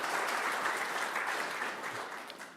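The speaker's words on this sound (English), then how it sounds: "Let's give another round of applause for Austin there." An audience at a live AI meetup event claps in a dense, steady round of applause that tapers off slightly toward the end, with no talking over it.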